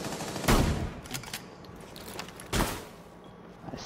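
Video game gunfire in a ranked match, with two sharp loud bursts about two seconds apart and quieter clatter in between.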